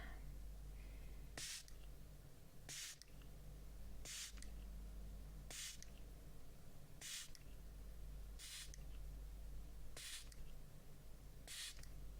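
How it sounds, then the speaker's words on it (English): A spray bottle mists in a quiet ASMR setting with eight short, sharp hissing spritzes spaced evenly about every one and a half seconds. Each spritz is close and crisp over a faint low hum, with no talking. "You should be enjoying the spray."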